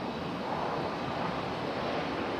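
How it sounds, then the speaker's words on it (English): Airliners landing behind a building at Raleigh-Durham International Airport, heard as a steady, distant broadband roar of jet engines with no talking. "they're all touching down behind the building."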